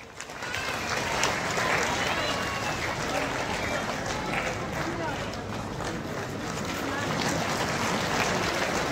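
Applause at a government ceremony where the chief minister hands out Group-1 appointment letters, a sustained wash of many hands clapping from a large crowd that stays steady throughout.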